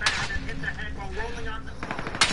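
Gunfire in a Warzone match, sniper shots among it, cracks out in a few sharp bursts near the start and again near the end, mixed under steady excited chatter from players.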